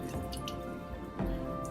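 Cold water drips and trickles off cooled tofu in a kitchen, a soft, quiet patter with a slightly louder splash near the end.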